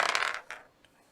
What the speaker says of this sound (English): A lot of dice rolling going on.